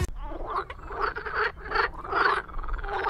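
Frogs croak in the Minecraft video game: a run of close, throaty croaks in quick bursts that fill the whole stretch with no talking.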